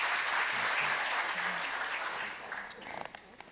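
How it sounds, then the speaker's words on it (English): Applause from a conference audience after a panel session at a brewing industry event: a steady wash of clapping that gradually thins out, with a voice faintly audible underneath near the end. "Big round of applause for these folks."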